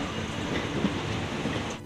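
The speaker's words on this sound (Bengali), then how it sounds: "আমাদের ট্রেন হুইসেল বাজিয়ে শালিমার স্টেশনকে টাটা বাই বাই করে এগিয়ে চলল পুরীর পথে" A Garib Rath Express train departing Shalimar station for Puri gives off a steady, loud rumble of rolling carriages, with a broad wash of noise and no voices.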